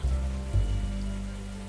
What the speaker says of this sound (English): The rain has finally let up.